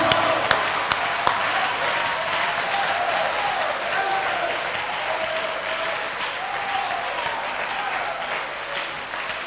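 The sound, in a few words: convention audience applauding and acclaiming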